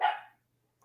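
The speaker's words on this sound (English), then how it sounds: "this dog has barked more in the last 3 minutes than it has in its entire life" A dog gives a single sharp bark, close and fairly loud, cut short after about a third of a second and followed by near silence.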